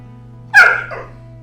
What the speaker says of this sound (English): My dog is barking because she wants attention